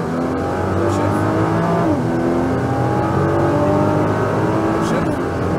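A Nissan GT-R on a race track drones loudly and steadily under acceleration, its engine tone climbing close and continuous from inside the car, with a voice speaking over it.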